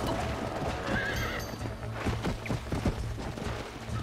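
In a Red Dead Redemption ranch mission, a horse whinnies loudly up close over a steady clip-clop of hooves, with game music and ambience running underneath.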